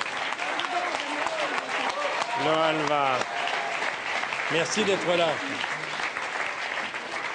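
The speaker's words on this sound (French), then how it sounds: "Merci beaucoup, vous applaudissez les danseurs." A studio audience at a French television variety show applauds dancers with steady, loud clapping throughout, while a host speaks over it.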